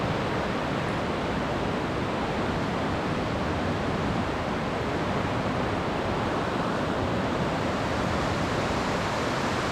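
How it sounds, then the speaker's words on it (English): Fast-moving river rapids in northern Saskatchewan roar in a steady, dense wash of rushing water, loud and continuous with no voices. "The water is so fast that it's scary even to look at the water."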